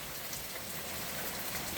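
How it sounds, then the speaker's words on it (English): Steady rain falls during a wet spell over a vegetable garden of tomatoes and potatoes, a dense, even hiss of drops close by that runs without a break and with no voices. "We're getting rainfall."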